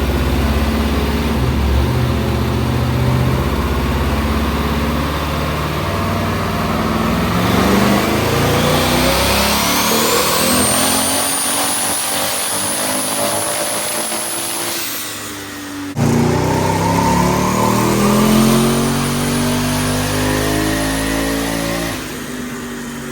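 An engine running $99 turbos screams on a dyno pull, loud and sustained, rising steadily in pitch, dropping off briefly mid-run, then winding up hard again.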